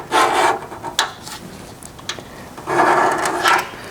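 A scribe scratches around a metal patch panel laid on the workpiece, giving two longer rasping strokes with short scraping ticks between them, close and fairly loud, with no voices.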